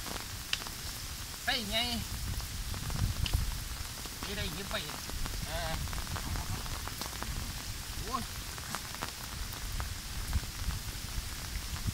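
Steady rain patters on surfaces outdoors while fish traps are set in floodwater, a dense continuous hiss with someone speaking briefly over it.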